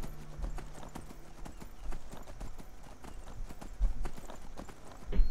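Horse hooves clip-clopping in the Skyrim video game, a steady run of soft rhythmic hoof thuds over low ambient noise, with a few louder thumps near the end.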